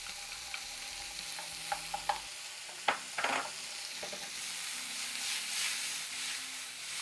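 Ground beef, garlic and tomatoes sizzle steadily in a hot pan, with a few close clinks and scrapes of stirring and no talk.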